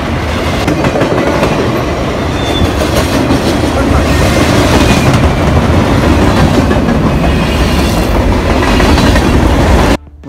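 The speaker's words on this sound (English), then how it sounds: "And this is a long train." A long train rumbles past continuously and loudly on a windy day, wheels clattering over the rails with wind noise, then the sound cuts off at the end.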